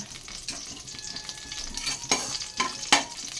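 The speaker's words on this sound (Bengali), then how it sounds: "আলু দেব, আলু ফ্রাই করব" Potatoes frying in a pan in a home kitchen, an even crackling sizzle broken by a few sharp scraping stirs of a spatula near the end, close and fairly quiet, with no speech.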